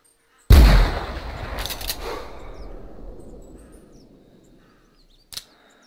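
A single sharp rifle shot fired at a wapiti in the hunting game theHunter Classic, set in Timbergold Trails, with a loud crack trailing into a long decaying echo, followed by a faint click a few seconds later.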